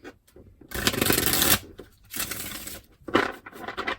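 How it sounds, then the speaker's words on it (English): Tarot cards are shuffled in several quick riffling bursts, close and crisp, with brief pauses between each pass. "let me shuffle this at least 3 times"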